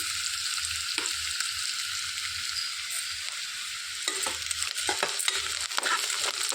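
Sliced onions fry in a pan for Andhra-style brinjal curry, with a steady bright sizzle and intermittent scraping knocks from a spoon stirring them, close and continuous.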